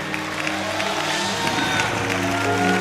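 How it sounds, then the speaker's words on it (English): A church congregation breaks into a rousing round of applause and cheering for a guest speaker, a dense, steady wash of clapping with crowd noise and sustained musical tones underneath, holding for about three seconds. "I want you to give a rousing round of applause to Vince Everett"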